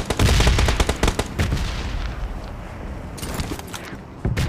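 Gunfire in a video game, rapid bursts of automatic shots loud and close at first, then thinner scattered firing, with a final burst near the end.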